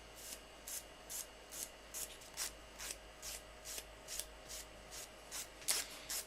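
A nail file rasps downward over the edge of a Jamberry nail wrap to take off the excess, about fifteen short, evenly spaced scrapes in a steady rhythm, close and quiet, with no talk.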